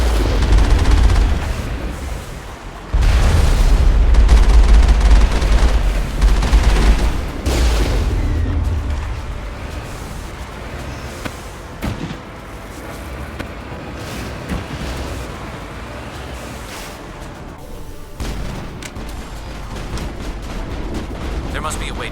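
Heavy artillery fire and explosions in a Mass Effect battle, a loud deep boom followed by sustained rumbling and scattered shots, with a voice speaking over the din.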